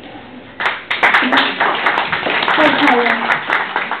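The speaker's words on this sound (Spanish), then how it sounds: "los aplausos lo distraen a uno" An audience claps and applauds in a burst of scattered, close claps, with a voice speaking over the applause.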